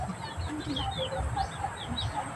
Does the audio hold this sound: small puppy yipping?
no